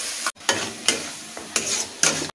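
Prawn malai curry being stirred in a frying pan, with several distinct scraping strokes of a utensil over a soft, steady sizzle, close and moderately loud.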